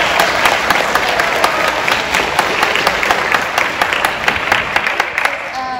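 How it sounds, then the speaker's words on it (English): Loud, close applause from an auditorium crowd cheering the bands after a Battle of the Bands, thick clapping with sharp individual claps standing out through a sustained roar. "So give those folks a round of applause."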